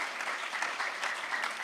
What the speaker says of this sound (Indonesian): kita beri tepuk tangan untuk Tuhan Yesus